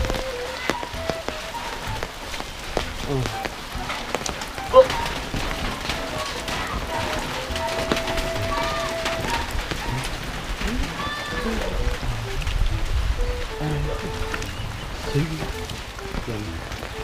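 Heavy rain pours steadily on outdoor surfaces, a dense continuous patter lasting throughout, with brief spoken exclamations and occasional faint bird calls in the background.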